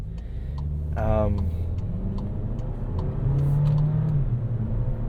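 A 2023 Volkswagen Taos engine pulls away at light throttle, a steady close cabin drone that rises gently in pitch, with someone talking over it.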